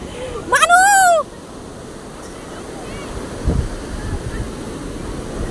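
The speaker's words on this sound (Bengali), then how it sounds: "এবার হিয়া বুঝতে পেরেছে যে জল এইখানে আসবে" Ocean surf rolling onto the beach at Puri, a soft, steady wash of waves and wind heard after a brief, loud, wavering voiced cry at the start.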